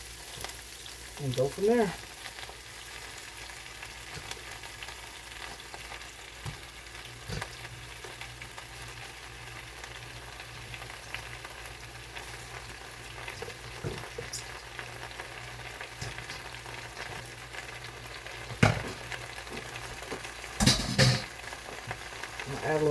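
Sweet potato slips sautéing in a cast iron skillet with a steady low sizzle throughout, a few louder stirring clatters, and a voice speaking briefly at the start and end.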